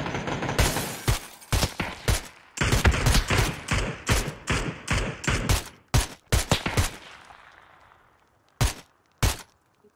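Gunshots from a PUBG match on the Miramar map, a rapid string of loud, sharp, close reports in quick bursts, then a few isolated shots after a brief lull.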